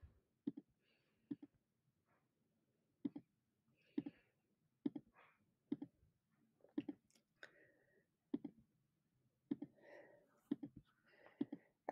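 Quiet computer mouse clicks while filling out and submitting a Google Form, a sparse series of soft, irregularly spaced taps close to the microphone, with faint rustling between them.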